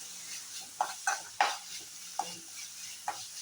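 Bitter gourd being sautéed in a pan, with a soft sizzle under a few sharp stirs and scrapes of a spoon against the pan, fairly faint and close with no talk.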